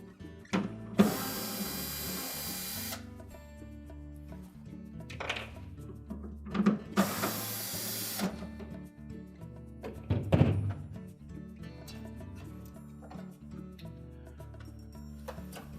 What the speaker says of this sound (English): So it's probably just as easy to remove these 2 mounting screws at the back.